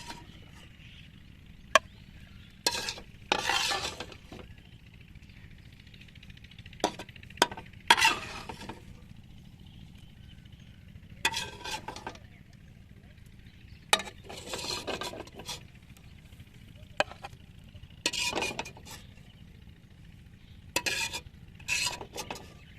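A chicken dish is stirred and mixed in a pan after coal smoking, with repeated close scraping and clanking strokes of a spoon against metal over a faint sizzle, arriving in irregular bursts with quiet gaps.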